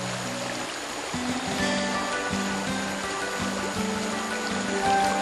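A crystal-clear mountain stream runs over cobble shoals in a forest recreation area, giving a steady close rush and burble of water that holds even throughout, with no talk over it.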